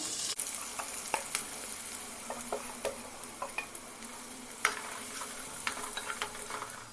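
Chunks of elephant foot yam coated in masala stir-fry in a pan, giving a constant soft sizzle broken by scattered scraping and tapping from the spatula.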